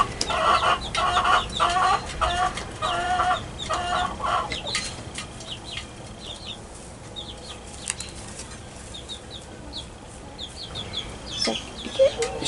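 Hens clucking inside a chicken coop, a busy cluster of overlapping clucks and squawks with wing flaps near the start, then quieter scattered calls and a few sharp cries toward the end; no speech.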